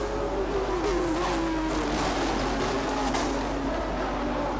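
A Porsche race car at the Bangsaen Grand Prix street circuit in Thailand, with a steady engine drone and a shifting pitch under constant broadband track noise, no clear passes or gaps.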